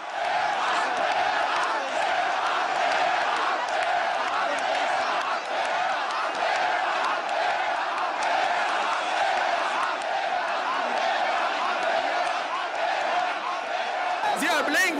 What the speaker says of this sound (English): Suddenly a change in the crowd from attentive silence to deafening roars of "Go!